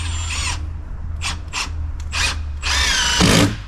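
A power drill bores a center hole in a wooden fence board, running in several short whirring bursts that build to a longer, louder run near the end, close and with no talk.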